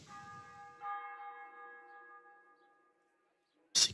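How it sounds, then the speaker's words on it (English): A medieval village church bell rings at 6 a.m. in Kingdom Come: Deliverance. One resonant toll hums and fades into near silence, and a sharp brief sound cuts in at the end. "6 a.m. church bell."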